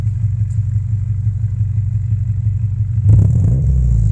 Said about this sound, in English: Here, give it some revs. Just give it a little bit of rev.